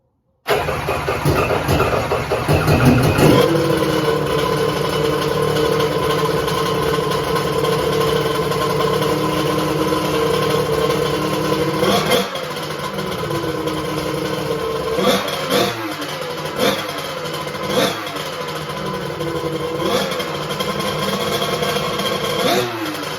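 A car engine cranks and catches, then settles into a steady, loud idle with a few brief blips and revs along the way.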